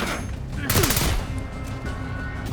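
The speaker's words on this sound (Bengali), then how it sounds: "শুরুতেই গ্রেনেড পড়ছে আমাদের ওপরে, মানে ওপেন ফায়ার চলছে।" Gunfire in the Black Ops 6 video game during a rescue mission under open fire, with a loud burst of shots and an explosion-like crack near the start, then a dense, noisy battle din continuing throughout.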